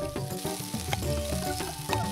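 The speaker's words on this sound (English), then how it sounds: "Now we gotta fry potato and carrots." Potatoes and carrots sizzle and crackle steadily in a pan in a cooking video game, with soft stirring clicks and light musical tones layered over the continuous frying hiss.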